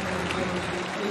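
A British crowd cheers and applauds at a women's kayak cross final at a canoe slalom world championships, a dense, steady wash of clapping and cheering.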